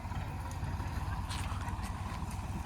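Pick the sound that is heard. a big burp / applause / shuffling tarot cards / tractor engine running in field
tractor engine running in field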